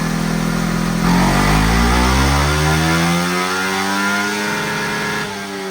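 Revs on a Suzuki Raider Pro motorcycle engine climb and hold high in a repair shop, a loud, close, buzzing whine that rises smoothly and sustains with no voices.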